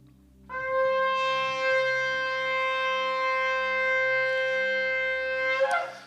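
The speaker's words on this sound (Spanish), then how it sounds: "Suena el shofar, hermano" A shofar ram's horn sounds at a Yom Teruah feast in a church service: one loud, sustained, steady blast lasting about five seconds, ending in a short rough break.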